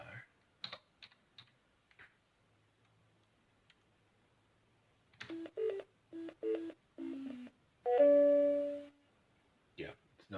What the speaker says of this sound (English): Just playing with the sound generators, there are 32 of them, and the ADSR